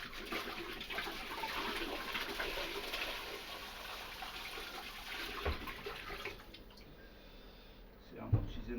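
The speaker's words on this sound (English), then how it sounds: "if you want to empty these demijohns quickly, you spin them anti-clockwise" Liquid gurgles and rushes steadily out of a demijohn spun anti-clockwise during home brewing of Sauvignon Blanc wine, a continuous watery swirl that eases off near the end with a louder splash.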